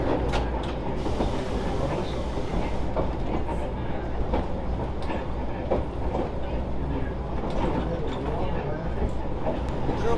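A historic trolley rolls along rails beside the Columbia River on the Astoria waterfront, giving a steady, close rumble with light rhythmic clatter that runs unbroken throughout.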